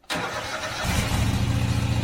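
A Kohler Pro 7000 series engine fitted to a Craftsman GT5000 lawn tractor cranks and catches. It quickly settles into a loud, close, rumbling idle.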